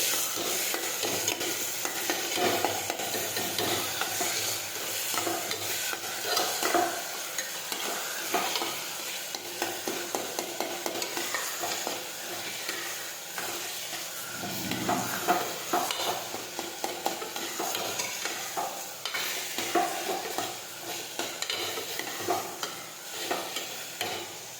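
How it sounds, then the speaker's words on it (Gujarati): Continuous sizzling from a hot pan of cowpea pods being sautéed, with frequent scraping and stirring strokes, close and steady for a long stretch. "હવે આપણે સાતળી દઈશું"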